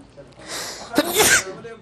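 A single sharp sneeze from an elderly man bursts out at close range, a short inhaled buildup followed by a loud explosive release, with faint talk around it.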